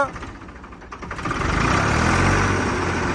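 A Ford 3600 tractor's diesel engine idles with a rough chug, then revs up after about a second into a louder, sustained roar nearby.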